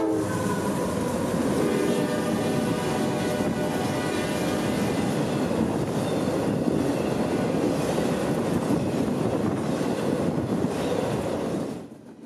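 Intermodal freight train IO44 led by two AC44 locomotives, rumbling past loud and close with a steady roar, horn tones and rail clatter, fading abruptly at the end.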